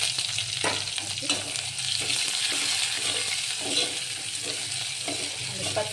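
Garlic, onion and curry leaves fry in hot oil for a toor dal sambar tempering, a continuous close crackling sizzle with occasional stirring scrapes and small pops, steady throughout with no voices.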